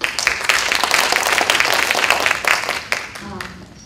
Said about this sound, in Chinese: 我们以热烈的掌声来欢迎他